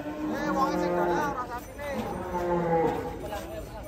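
A cow moos twice at a cattle contest, long and drawn-out with a pause between, loud and close, with faint background noise.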